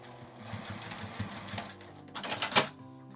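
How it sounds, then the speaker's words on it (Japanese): A sewing machine stitches along the edge of a faux leather laminate coin purse, a rapid mechanical whirring that runs steadily and then builds into a louder burst of stitches near the end, with no talking. "最後まで縫います。"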